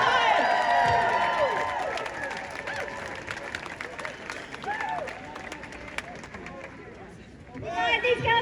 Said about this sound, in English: Well done, guys! Round of applause!